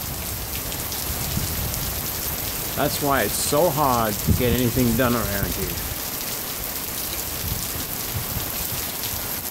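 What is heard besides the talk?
daily rainstorm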